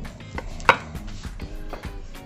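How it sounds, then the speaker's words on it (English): A knife slices through ribeye steak for carne asada on a cutting board, a few soft close cuts with one sharper knock against the board. "run my knife through these, and we'll take them in our marinade"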